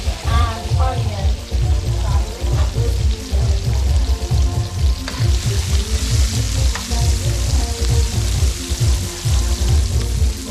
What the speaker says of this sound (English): We're gonna saute the tomatoes, garlic,